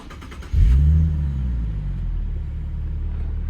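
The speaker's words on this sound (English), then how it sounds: "to start the engine, just put your foot on the brake and push the button to start." A 2022 Nissan 370Z Nismo engine cranks and fires up with a push-button start, catching with a loud burst around half a second in, then settling into a steady, close idle rumble with no talk.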